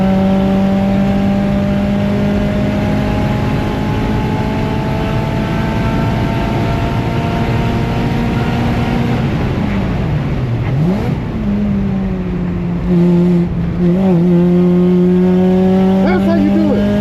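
A race car on a track, its engine loud and close, rising steadily through the gears with long climbing whines, then a brief dip and a renewed surge of acceleration.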